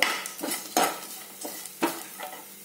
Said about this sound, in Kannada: ಕರಿಬೇವು ಕೂಡ ಹಾಕ್ತಾ ಇದ್ದೇನೆ.